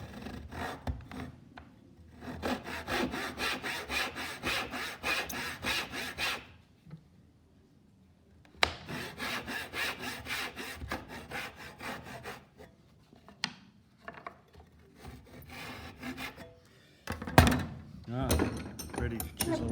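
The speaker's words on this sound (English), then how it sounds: "The saw doesn't want to start cutting" A hand saw cuts wood for a bridle joint in rhythmic back-and-forth rasping strokes, loud and close, in several bursts separated by short pauses.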